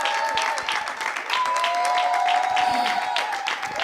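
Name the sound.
audience applause and cheering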